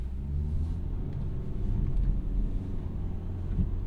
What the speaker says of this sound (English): the cabin is actually pretty noisy, and so is the engine